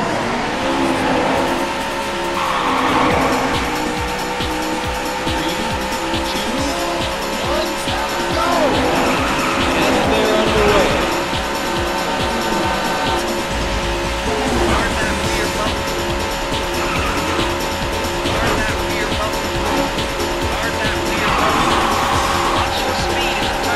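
Race cars revving and roaring in the Daytona USA arcade racing game, a dense continuous engine drone with tire squeals rising over it, loud and sustained throughout, with a voice speaking over the start.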